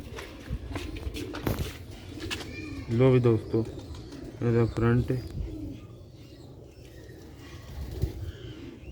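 Sialkoti black-faced pigeons give two short bursts of deep, throaty cooing close by, between a man's speech and soft handling and shuffling noises.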